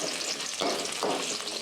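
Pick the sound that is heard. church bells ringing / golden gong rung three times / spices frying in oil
spices frying in oil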